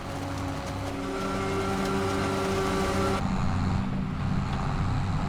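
Farming Simulator 25 vehicle engine under load with an automatic transmission: a steady, droning motor whose pitch holds and then abruptly changes as it shifts gears, continuous and fairly close.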